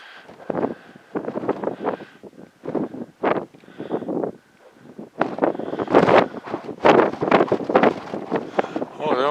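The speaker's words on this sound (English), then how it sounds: "let alone it's windy, as you can tell." Gusty wind buffets a mountainside, rumbling and rushing steadily beneath nearly continuous close talking by a voice.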